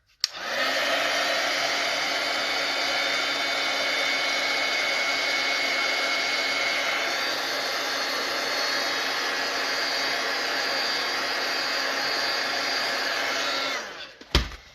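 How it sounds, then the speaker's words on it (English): A hair dryer blows steadily for about fourteen seconds, a loud continuous whooshing hum that cuts off abruptly at the end. "Okay, I'm going to take that dryer again."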